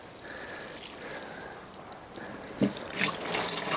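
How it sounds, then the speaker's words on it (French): Water pours generously over newly planted lettuce and marigolds in a small garden plot. It makes a steady close splashing and trickling on the soil, with a sharper splash near the end. "un arrosage bien copieux, surtout sur les salades et sur le souci, pour que la terre colle bien aux racines"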